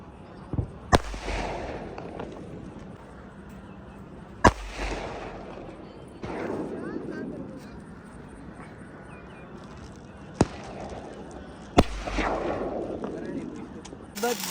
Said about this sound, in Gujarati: આ દરિયાની વચ્ચે કેવો અવાજ આવે ફટાકડાનો